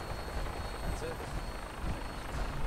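A helicopter in the video game Fallout 4 gives a steady rotor drone throughout, heard at moderate loudness with no talk over it.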